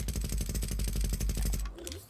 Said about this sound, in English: Okay, now this gun sounds like this.